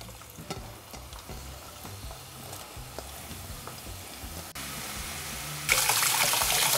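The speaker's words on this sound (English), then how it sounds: "Next thing we're going to do is fry our onions." Onions fry in a pot with a steady, close sizzle and soft stirring clinks, the hiss growing suddenly louder and brighter toward the end, with no talk.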